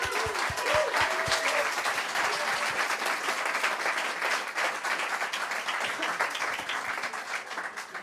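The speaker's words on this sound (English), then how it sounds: "So I'd like to give Monica one big round of applause." A big round of applause from a crowd at a startup weekend event in Copenhagen, dense and sustained clapping that stays loud for several seconds.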